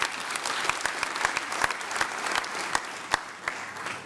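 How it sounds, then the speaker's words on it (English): Members of a provincial legislature applaud at a state of the province address, with a moderate, fairly sparse round of clapping where individual claps stand out against the hall's background noise. "Join me, honorable members, in acknowledging their contribution to our provincial economy with indeed a solid round of applause"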